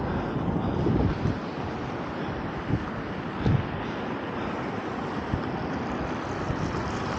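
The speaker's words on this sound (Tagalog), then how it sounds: "Ang lamig, ang sakit sa tenga nung hangin." Strong wind buffeting a microphone, a constant roaring rush with occasional louder gusts throughout, no voices.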